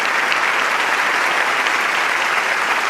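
Dense, steady applause from an audience at an international YSP general assembly award ceremony, a continuous wash of many hands clapping at close range, loud and unbroken throughout.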